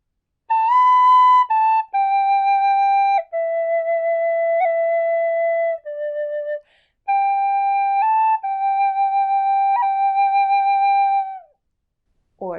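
A tin whistle plays the Braveheart flute solo in the lower octave, a clear, close melody of held notes with small ornaments and a few short breaks, alone with no talking.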